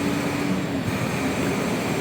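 An approaching MRT train rumbles close by with a steady, heavy roar and a faint metallic whine, constant and loud throughout.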